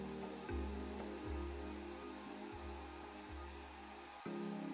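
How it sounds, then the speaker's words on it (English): A hair dryer blows steadily nearby, drying glue on a towel, its airflow cycling on and off in several pulses with a constant whirring hum. "I'm holding the towel in place while I use my hair dryer."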